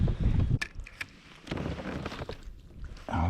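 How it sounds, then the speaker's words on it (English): Wind gusts buffet an Old Town PDL pedal kayak out on the water during a March bass fishing trip, loud rumbling bursts with brief lulls between them, close to the microphone and with no talking. "I was trying to avoid the wind, and now it's hit me in the face anyway"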